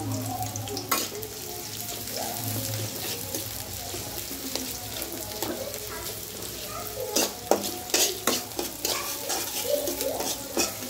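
Onions sizzling in hot oil in a pan, a steady frying hiss with occasional sharp clinks and stirring scrapes growing busier toward the end, close and moderately loud, no talk.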